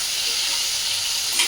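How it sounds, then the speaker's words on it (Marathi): Eggplant fries in oil with a dense, steady, close sizzle that holds evenly for a moment, with a small flare at the end. "तेलामध्ये प्रथम हे भाजून घेते वांगी."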